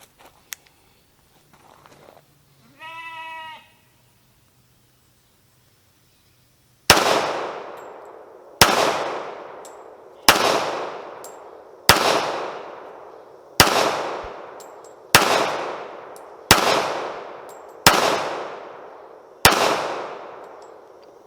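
Nine loud, evenly spaced pistol shots from a Kimber Custom Crimson Carry .45 ACP at a range, each a sharp crack with a ringing decay, preceded by faint handling clicks and a brief mechanical whir.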